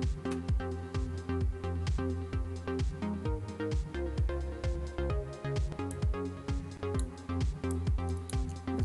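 An FL Studio drum pattern of kicks, claps and hi-hats plays a steady, even groove, punchy kicks under regular claps and ticking hats, fairly quiet and alone.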